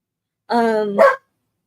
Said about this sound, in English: The dogs and the cats are playing.